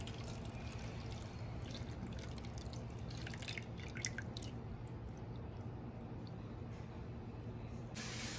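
Milk pours into a beaten egg mixture for homemade egg pudding, a soft steady liquid trickle with faint splashes under a constant background hum, no talking.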